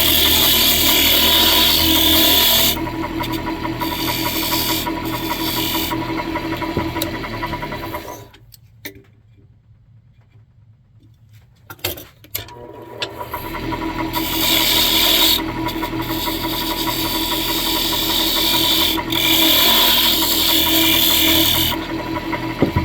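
Wood on a lathe being shaped into a turkey call gives a continuous loud rasping scrape over a spinning hum, broken by a few seconds of near quiet midway before the cutting resumes.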